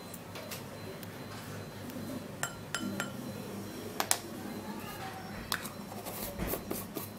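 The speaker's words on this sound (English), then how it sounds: "So now we're going to be scooping in a little quantity of vapor rub" Small clinks and scrapes of a utensil against a bowl while vapor rub is scooped in, scattered sharp taps and ticks over a quiet background with no speech.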